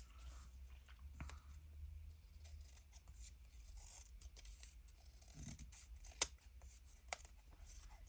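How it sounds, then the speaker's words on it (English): Quiet snipping of big scissors cutting through paper, a few sharp clicks scattered over a low background hum. "And then we can get the big scissors"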